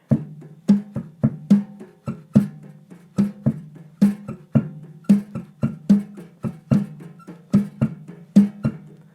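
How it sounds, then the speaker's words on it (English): A drum kit plays a steady, syncopated bossa nova groove of crisp rim clicks and soft low drum hits, repeating evenly and up close. "Now you hear the jazz rhythm, right? So this is bossa nova."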